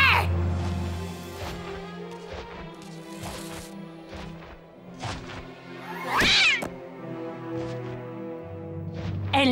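A cat meows and yowls several times, fairly close, over a busy background of music and other sounds in an animated cartoon.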